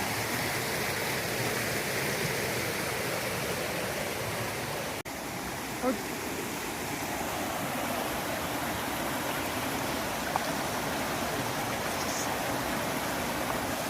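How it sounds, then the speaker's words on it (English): A waterfall on a hiking trail roars steadily, a dense, unbroken rush of falling water that stays loud and even throughout with no voices. "another beautiful waterfall"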